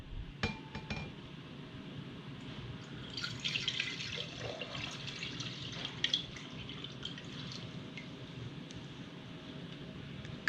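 Distilled water poured into a glass container for a soil permeability test, heard as a faint, steady trickle with light glassy clinks and drips, close by and without talk.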